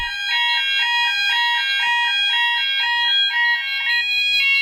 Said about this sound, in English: the communal alarm is sounding, as are all the alarms in the different dwellings